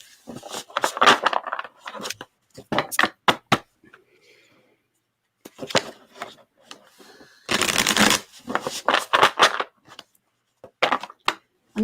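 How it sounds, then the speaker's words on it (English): Reading cards shuffled in repeated crisp bursts of riffling and flapping, loud and close, with a longer dense shuffle in the middle; a voice talks between the shuffles. "I'm going to turn the mic off while I shuffle."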